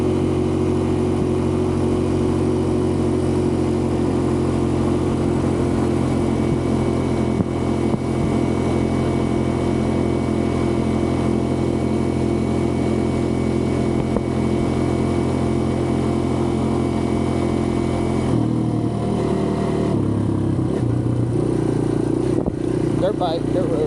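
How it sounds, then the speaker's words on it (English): A Kawasaki KLX 140 dirt bike engine runs steadily on a dirt road, a loud, continuous droning hum close by that shifts in pitch near the end. "Dirt bike, dirt road."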